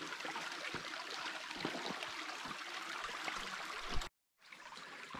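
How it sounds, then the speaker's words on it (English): A small clean creek flows steadily, a soft continuous trickle and gurgle of moving water heard close by, briefly cut to silence near the end. "This is a great little creek."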